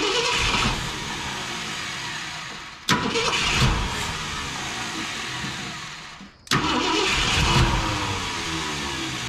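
A 1972 Ford Ranger XLT camper special pickup engine cranks and catches in several restarts, revving up and settling into a rough, loud idle up close with no talking.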